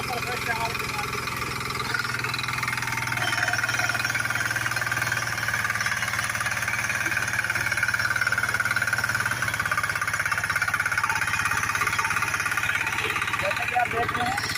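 An Agrikut power weeder rotavator, a 2022 model, runs in first gear with a steady, loud, rattling engine drone that holds unbroken throughout.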